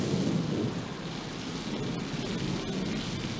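A steady thunderstorm roars with heavy rain and low rumbling thunder, a dense, continuous wash of sound close around a riverside hide with no voices.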